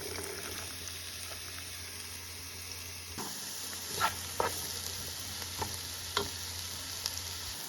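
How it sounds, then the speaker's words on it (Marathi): Onion sizzles in hot oil in a pan for a beef green curry, a steady crackling fry with a few sharp stirring clinks and scrapes, fairly close and without speech. "हेचो ओनियन घातां आतां हा."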